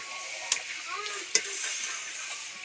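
Food fries in hot oil, a steady bubbling sizzle with two sharp clicks of a utensil against the pan, heard close and without talk.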